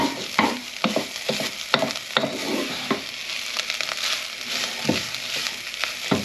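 Bolognese sauce fries in a pan with a bubbling sizzle, punctuated by repeated close spoon stirs and knocks against the pan at an uneven rhythm.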